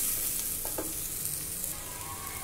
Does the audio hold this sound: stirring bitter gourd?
yes